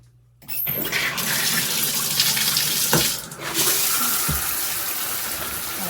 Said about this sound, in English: So I'm gonna put the water on.